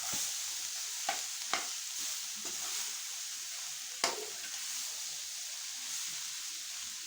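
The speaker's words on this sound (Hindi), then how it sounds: "इसी तरह सारी सब्जी को अच्छे से मिक्स करेंगे।" Radish leaf sabzi frying in a pan while being stirred, a constant bright sizzle with a few sharp spoon scrapes and knocks against the pan, no voices.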